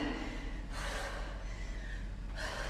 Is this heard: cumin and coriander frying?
no